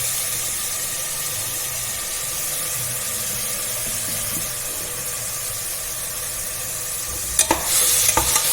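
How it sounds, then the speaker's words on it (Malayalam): Crushed small onions sautéing in a pressure cooker for mutton curry, giving a steady, close sizzle and hiss that runs throughout, with a few sharper stirring scrapes and clatters near the end. "ഇത് ചെറുങ്ങനൊന്ന് വഴറ്റണം"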